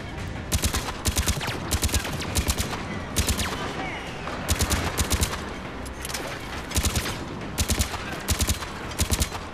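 Bursts of gunfire from the video game Mass Effect 3 fire in rapid, repeated volleys over a loud, continuous battle backdrop of music and effects, steady throughout.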